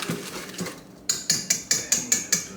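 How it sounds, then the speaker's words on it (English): Cookie dough ingredients whisked in a bowl: a few soft scrapes, then a quick regular series of sharp metallic clicks as the whisk strikes the bowl about five times a second, close and clear. "you want to whisk this together"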